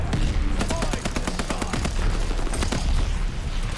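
Rapid gunfire from a weapon in the shooter game Call of Duty Vanguard, dense bursts of shots running continuously and loudly throughout, with faint talk underneath.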